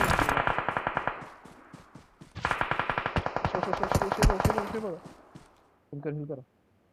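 Automatic gunfire in a mobile shooter game rattles out in rapid, evenly spaced bursts, with one longer run after a short pause. A brief voice-like sound follows at the end.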